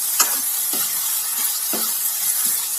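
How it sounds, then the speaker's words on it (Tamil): Chicken pieces stirred in hot oil in a pan, with a steady sizzle underneath and several separate scraping stir strokes spaced through it, close and fairly loud, with no talk. "நல்லா கிண்டி விட்டுக்கலாம் அந்த எண்ணெயிலே வதங்கட்டும்"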